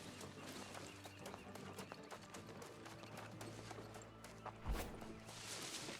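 Horse hooves pound steadily in a video game, a fast galloping clip-clop under a low droning background, with a brief louder thump near the end.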